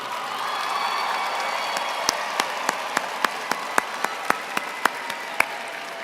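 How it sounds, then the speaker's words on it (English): A commencement crowd at North Carolina A&T State University applauds steadily, a broad wash of clapping with a few louder individual claps standing out near the front. "an enthusiastic round of Aggie applause"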